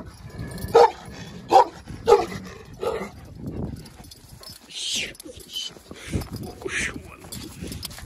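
Dogs barking and yipping during feeding time, several sharp nearby barks in the first few seconds, then scattered yelps and whimpers while people talk.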